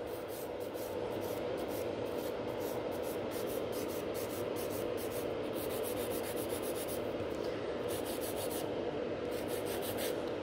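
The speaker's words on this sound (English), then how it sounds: "that's kind of my filing technique, which I use all the time" Nail file rasping back and forth across sculpted nails, a continuous fine scratchy rubbing at steady pace, close and fairly quiet, with no voices.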